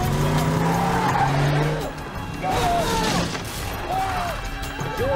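Vehicles crashing through a quarantine barricade, with loud tire skids and squeals, engine roar and a few impact thuds over about five seconds, while people speak faintly in the background.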